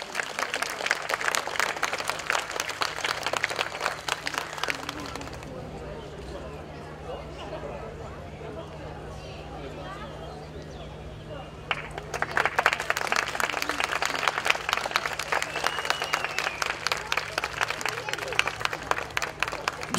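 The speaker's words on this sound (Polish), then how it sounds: "No i prosimy o wielkie oklaski" An audience at the Dni Proszowic 2013 town festival applauds a ballet dance group with dense, sustained clapping that fades to a quieter lull midway, then surges back strong to the end.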